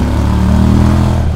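A QJ Motors SRV 300 motorcycle engine drones loud and close with a steady low rumble, held at a constant revving pitch across a short burst.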